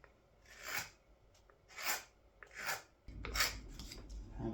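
A gouge carves a wooden scoop by hand in traditional woodworking, making four rhythmic, rasping scrapes close by, each stroke rising and fading, followed by denser rubbing.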